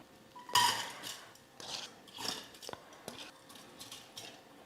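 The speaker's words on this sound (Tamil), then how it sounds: "இந்த அரிசியை வந்து இப்போ நம்ம குக்கரில் சேர்த்துக்கலாம்." Soaked rice and moong dal tipped into a pressure cooker, giving a string of clinks, scrapes and soft rattles against the metal pot, with a sharper clatter near the start and quieter knocks after.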